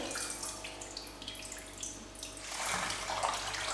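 Syrup-tinted water is drained from a jar of peach halves being canned, pouring and splashing into a sink or basin, a trickling stream that swells louder toward the end, with no one talking.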